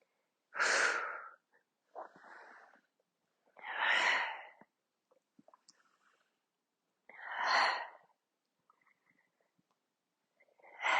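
Rhythmic breathing during an ab strengthening exercise: four strong, close exhale-like breaths at roughly three-second intervals, with softer inhales and small sounds between them.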